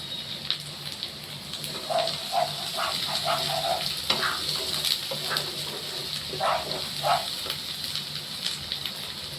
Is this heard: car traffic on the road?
no